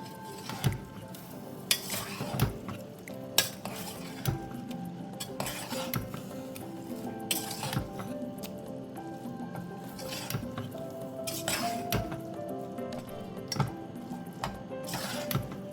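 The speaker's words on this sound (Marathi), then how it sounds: "घाटून घेते." A spoon stirs grated carrots with milk in a pan for carrot halwa, giving repeated clinks and scrapes against the metal and soft wet squishing. The close, rhythmic stirring carries on with no voices.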